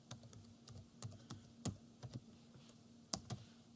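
Typing on a computer keyboard, a scattered run of crisp close keystrokes with irregular pauses between clusters, quiet and alone over a faint electrical hum.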